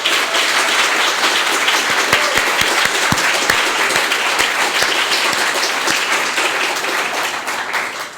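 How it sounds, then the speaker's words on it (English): Audience at a Caribbean literary prize announcement ceremony giving a long round of applause, dense steady clapping with a few sharp close claps, fading slightly at the end. "Would you give them all a huge round of applause?"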